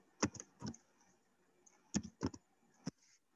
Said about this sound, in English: Now I'm going to do some typing